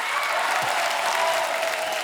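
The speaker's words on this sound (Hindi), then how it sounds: "जोरदार तालियां" The studio audience of a Hindi comedy talk show breaks into loud, sustained clapping with a faint steady tone running underneath.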